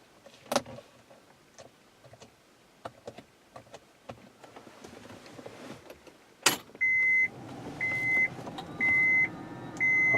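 An electric door mirror motor on a Honda Pilot whirs in several short, even bursts with pauses between, loud and close, after a few clicks and handling knocks.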